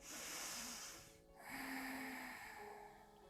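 A deep yoga inhale drawn through the nose, close and breathy, rising after a brief pause with a slight snort-like edge, with no voice over it.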